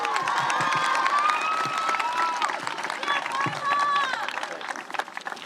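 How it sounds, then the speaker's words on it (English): Audience at an 8th grade middle school graduation ceremony applauds and cheers loudly and steadily, with shouts and whoops rising over dense clapping throughout. "Let's give her a round of applause."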